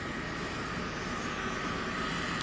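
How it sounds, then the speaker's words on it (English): Air Force One, the presidential jet, taxis at TF Green Airport with a constant loud jet engine whine and roar, steady and unbroken. "We can see the president's plane, Air Force One, taxiing closer to us right now"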